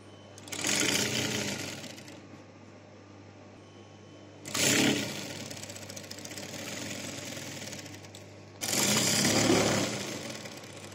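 A sewing machine stitches a gents' half-open shirt in three loud bursts of rapid mechanical whirring, with quiet pauses between them and a steady low hum underneath.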